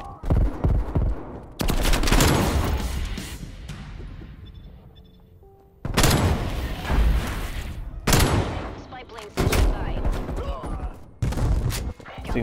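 Gunfire in Black Ops Cold War hardcore team deathmatch, loud bursts of rapid automatic fire in several separate volleys with short gaps and a decaying tail between them.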